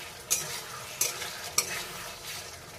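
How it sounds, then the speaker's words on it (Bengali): Fish curry masala for a red silver carp curry sautéing in a pan, a steady soft sizzle with three sharp stirring scrapes spaced about a second apart, close and alone. "একটু ঢাকনাটা দিয়ে ঢেকে ঢেকে কিছুক্ষণ অবধি কষাবো।"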